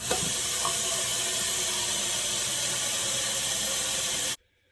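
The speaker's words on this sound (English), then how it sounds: "get a pot and fill it with water for the potatoes" Water pours steadily from a tap into a pot, a continuous rushing hiss that stops abruptly near the end.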